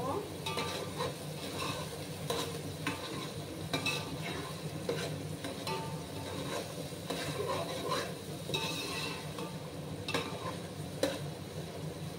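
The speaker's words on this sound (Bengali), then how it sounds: "গাজরগুলোকে ফ্রাই করে নেব।" Carrot pieces fry in a pot, sizzling steadily throughout while a utensil stirs and scrapes, with occasional metallic clinks against the pot, close and continuous.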